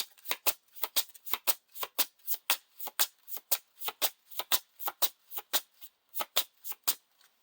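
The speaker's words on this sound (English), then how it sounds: "each player shuffles the top 5 cards of his discard pile back into his deck" Playing cards from a Lord of the Rings card game are riffle-shuffled close up, a rapid series of crisp rustling bursts repeating in a quick, fairly even rhythm, fairly quiet with no voices.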